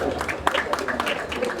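An audience at a Cameroonian talent awards ceremony gives scattered, fairly light clapping for a prize winner. The irregular claps run under a speaking voice for a second or two.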